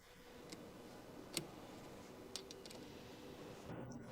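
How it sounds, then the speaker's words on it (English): An 8mm wrench tightens the nut on a battery's positive terminal while installing an off-road light, giving a few faint, scattered metallic ticks and clicks over quiet background hiss. "Tighten it with the 8mm wrench."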